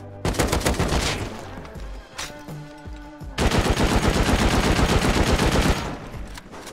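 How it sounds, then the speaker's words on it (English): Explosive-round gunfire rattles in a video game raid, dense rapid bursts that fill the scene, pause briefly around the middle, then return as a longer sustained volley before fading. "I'm gonna use explosive ammo."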